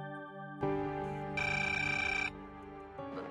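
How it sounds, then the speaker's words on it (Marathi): A telephone rings indoors with a steady electronic tone, one sustained ringing burst of about two seconds over quiet background, without voices. "देवचाच फोन असेल"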